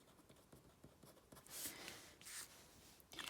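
A pen writing a note on paper, giving soft scratching strokes that grow into denser, louder scribbles near the middle and again at the end, close and quiet with no talk.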